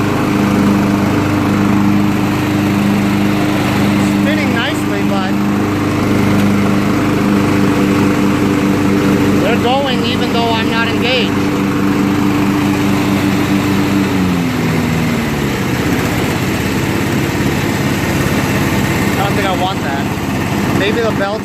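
Craftsman riding lawn tractor with a Kohler 16.5 HP engine and 42-inch deck runs loud and close, a steady low throttle drone whose pitch drops partway through as the deck is engaged, with someone talking over it.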